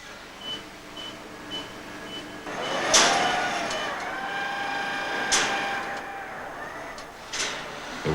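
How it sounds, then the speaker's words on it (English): Automated robot factory floor running with no workers present: steady machinery hum with periodic short beeps, whirring motor sweeps and sharp mechanical clacks at intervals, with no voices. "If this is the factory of the future, it will sound like this."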